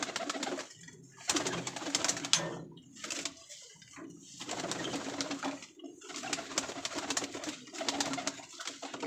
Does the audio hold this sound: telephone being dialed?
no